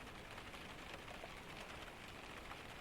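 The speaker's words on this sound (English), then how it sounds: "Rain running down the glass" Gentle rain falls on the roof and runs down the window of a cozy cabin in a Scandinavian storm, a very quiet, continuous hiss with no voices.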